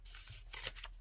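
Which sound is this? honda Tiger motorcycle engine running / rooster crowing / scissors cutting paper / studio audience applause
scissors cutting paper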